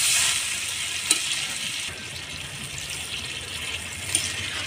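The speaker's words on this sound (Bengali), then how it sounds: "তো এবার আমি জল দিয়ে দেবো।" Duck meat and fried potatoes sizzling in a hot pan as water is poured in, giving a steady, close bubbling hiss with a couple of brief clinks from the pan, no voices.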